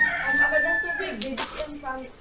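A rooster crows nearby, one drawn-out call that rises and trails off, with faint background noise.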